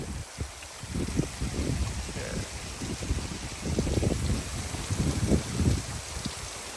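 Heavy rain pours steadily over an outdoor concrete-pour construction site with waffle pods, a dense hiss with uneven low gusts and buffeting throughout.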